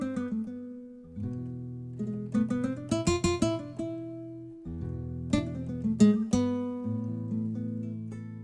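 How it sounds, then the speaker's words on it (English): Sampled nylon-string guitar from the Steinberg Hypersonic 2 instrument plays a run of plucked notes and chords, with audible finger squeaks on the strings during position shifts, alone and fairly close. "that's the sound of the strings squeaking as the fingers move up to change"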